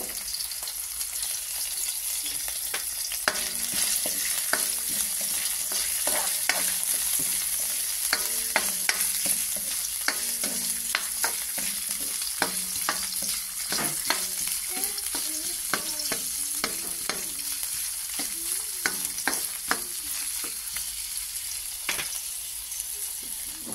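Ginger sautés in a pan with a constant sizzling hiss and frequent spatula scrapes and clicks, close and moderately loud, while faint voices murmur now and then underneath.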